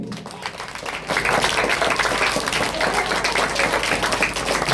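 A school audience at a semi-Christmas celebration bursts into loud, sustained applause for a dance skit, the dense clapping swelling after a quieter first second and holding steady throughout.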